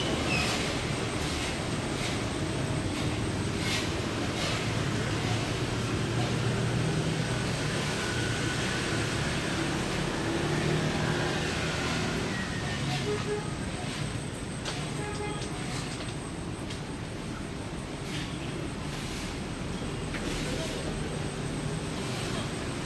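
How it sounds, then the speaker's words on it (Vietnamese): An Airbus A321 landing on runway 35R at Da Nang International Airport in poor weather: a broad, steady roar of jet engines heard from a distance, holding level across the whole stretch with a faint high whine on top. "Chiếc A321 vừa hạ cánh thành công xuống đường băng 35 phải sân bay quốc tế Đà Nẵng."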